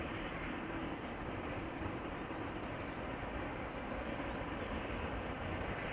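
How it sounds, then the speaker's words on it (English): An AMC Airbus A340-300, a four-engine airliner about 22 years old arriving from Malta, rumbles at moderate distance as a steady, subdued roar with no voices. "AMC flight 394 A340 300 arriving from Malta, 22 years old, first flight October 2000."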